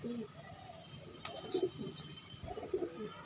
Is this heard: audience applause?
no